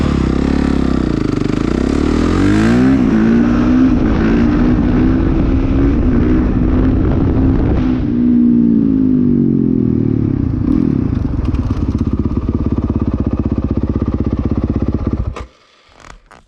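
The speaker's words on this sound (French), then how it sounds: "je pars pour vous montrer donc le premier wheeling, celui avec l'élan" A motorcycle revs hard and accelerates to lift into a wheelie using momentum, its loud close engine note rising through the gears, holding high, then cutting off abruptly near the end.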